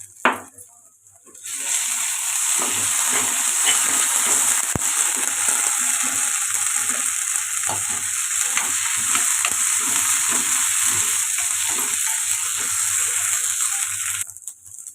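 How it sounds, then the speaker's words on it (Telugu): Onions frying in a pan with a spoonful of ginger-garlic paste for matar paneer masala: a loud, steady sizzle that runs unbroken for the whole stretch, with faint stirring underneath and no talking. "ఉల్లిపాయలు ఇలా ఫ్రై అవుతుంది కదండి ఇప్పుడు ఇందులోకి అల్లం వెల్లుల్లి పేస్ట్ అయితే వేసేసుకున్నాను"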